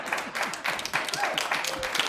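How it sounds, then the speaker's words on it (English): Audience applause and scattered clapping at a stand-up comedy show, moderately loud and steady for about two seconds, with faint voices mixed in. "Stop clapping."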